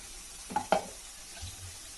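Mutton chukka masala, already roasted and ground, is stirred lightly in a pan: two quick, quiet scrapes of a spoon, then a faint low rumble against soft background hiss.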